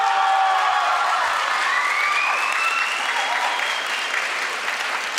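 Sustained applause from a large audience at an international moot court awards ceremony, dense clapping filling the room steadily and gradually easing off, with no talk over it.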